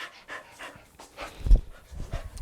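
Dogs pant in quick, rhythmic breathy bursts close by after running along a fence, with a small whimper near the middle and no speech.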